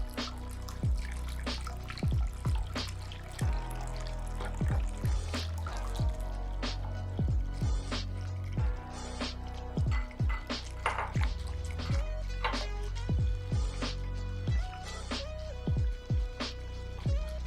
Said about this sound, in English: I'm gonna slowly add in a little over a cup of hot boiling water.